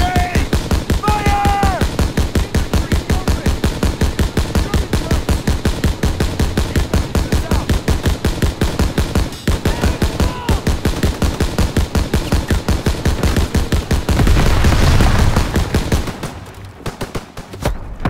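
Sustained rapid automatic gunfire in a Call of Duty WWII battle at the Death Factory, dense volleys of rifle and machine-gun shots rattling almost continuously for the whole stretch, loud and close, briefly swelling into a heavier roar near the end with shouted orders mixed in.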